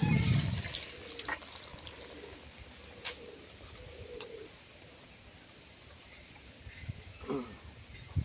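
Water from a tubewell at a rural riverside char in Bangladesh splashes briefly into a mug at the start. Faint trickling follows, with doves cooing softly in the background.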